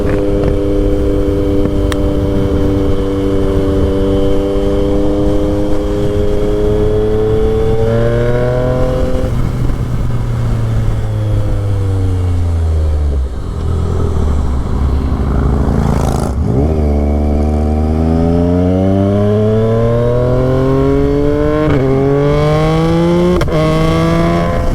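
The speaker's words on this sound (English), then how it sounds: "That exhaust sounds amazing." Yamaha XSR 900 motorcycle on a ride, its exhaust loud and close as the engine rises through the gears in repeated climbing sweeps with quick-shifter drops between them, one deep deceleration mid-ride, then more hard accelerations.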